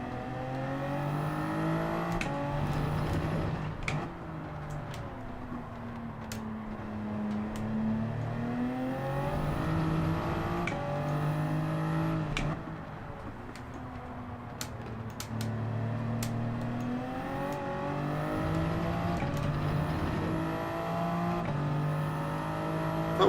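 A Toyota Supra Group 3 race car in Gran Turismo 7 at Fuji International Speedway, its engine loud and continuous, pitch climbing and dropping through gear shifts with brief clicks.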